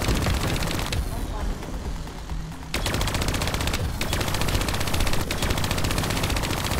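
A mounted turret machine gun rips through waves of robots in Call of Duty: Black Ops III, loud continuous automatic bursts with a brief lull, then firing resumes, layered with game effects and a voice speaking.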